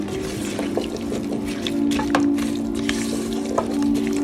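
Chilies, carrots, salt and potatoes stirred together in a pot for Japanese curry, giving a steady wet squelching and sloshing with small clicks, close and fairly loud, with no talk.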